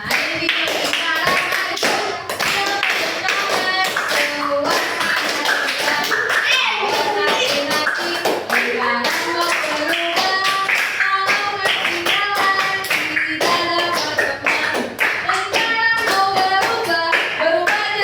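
A group of children claps hands continuously while stepping forward in a circle game at a school, a busy, close patter of claps with kids singing and an adult talking throughout.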